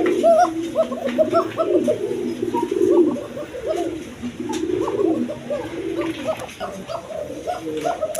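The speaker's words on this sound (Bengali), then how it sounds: "এখানে একটা ডেনিশের মাদি কবুতর আছে" A Danish female pigeon coos in repeated low, throaty phrases, close and steady, with a brief pause midway before the cooing resumes; faint background noise runs underneath.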